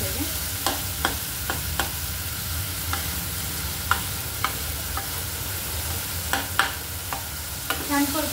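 Sprouted green moong masala sautéed in a pan, a constant sizzle broken by regular spatula scrapes and light taps against the pan, close up with no talking.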